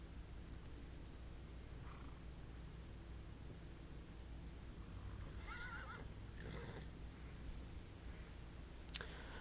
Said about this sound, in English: Got some horses.